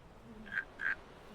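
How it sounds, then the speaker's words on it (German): A frog in a video game swamp gives two short, faint croaks in quick succession against a quiet background. "Da hinten ist ja der Frosch, siehst du?"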